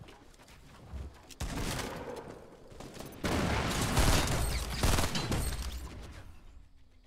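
Shotgun fire in the Fortnite video game during a one-on-one match, heavy broadband gunfire bursts building through the middle and latter part, with dense overlapping shots and game effects, loud and close.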